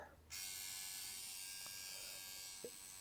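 A Neuma 5 Flex tattoo machine running without a cartridge gives a steady, close electric buzz that holds for about three seconds after switching on, with faint clicks.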